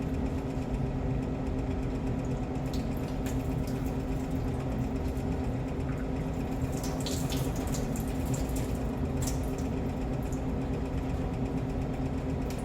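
Water is poured out of a container of soaked wood chips used for growing lion's mane mushrooms. It makes a steady splashing trickle over a low, constant hum.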